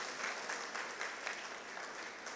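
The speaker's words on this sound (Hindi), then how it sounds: "एक बार पुनः जोरदार तालियां हमारे आदरणीय सांसद महोदय के लिए।" Crowd at a school award ceremony applauding a member of parliament, a soft, steady patter of many hands clapping, fairly distant and even, with no voices over it.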